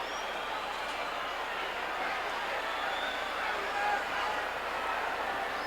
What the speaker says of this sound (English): Listen to this crowd as they charge Dusty Rhodes up.